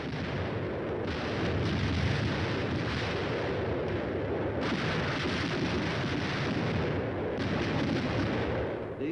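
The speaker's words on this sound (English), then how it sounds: "The air bursts fired by a battalion of 105mm howitzers present a lively show." A battalion of 105mm howitzers fires air bursts in a continuous, loud, booming rumble that swells and dips without a break.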